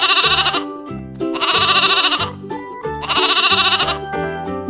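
A goat bleats loudly three times in a row, each cry a long, wavering, nasal call with short pauses between, heard up close and alone.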